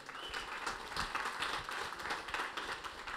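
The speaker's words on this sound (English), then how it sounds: "A big applause for our presenters" Faint, distant applause from an audience for the presenters at a graduation evening event: a dense, steady patter of many hands clapping.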